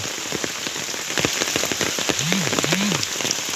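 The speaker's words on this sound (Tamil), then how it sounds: "மழையும் சரியான மழை" Heavy rain pouring down outdoors during cleanup work at a memorial ground, a loud dense steady patter on surfaces with a couple of faint low sliding tones toward the end.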